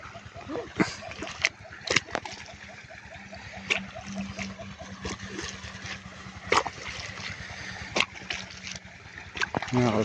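Water splashes and splatters in uneven bursts while bitter gourd plants are watered outdoors, with sharp clicks and a low rhythmic hum underneath and a person talking throughout.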